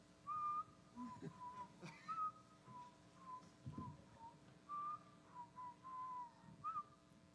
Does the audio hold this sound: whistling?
yes